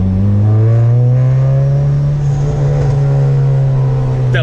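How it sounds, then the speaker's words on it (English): A turbocharged Honda Civic Si revs loudly with a strong droning engine tone that climbs and then settles, close and alone; a brief backfire pop is not clearly distinct. "That little backfire."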